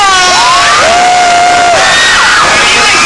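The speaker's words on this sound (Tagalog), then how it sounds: "Isang napakalakas na sigawan lang naman!" A wild crowd at a freestyle rap battle between Abra and Loonie at TM Astig Fest lets out a loud, sustained roar of shouting and whooping that fills the whole moment.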